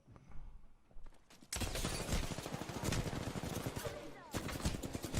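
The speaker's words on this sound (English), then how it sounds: "That's a full auto gun, so you could have sprayed it." Full-auto gunfire in the Apex Legends video game, a sustained rapid burst of shots after a quieter opening, continuing loudly with a brief dip near the end, while voices talk alongside.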